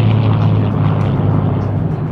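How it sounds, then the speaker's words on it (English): Spitfire warbirds in a tail chase over the Duxford aerodrome, giving a steady, loud propeller-engine drone that holds without a break. "the formation of no less than 13 Spitfires and a Seafire at Duxford in September, followed by a magnificent tail chase over the aerodrome"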